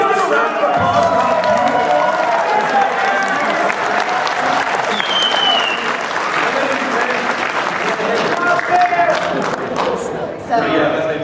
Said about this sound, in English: Can we do a round of applause?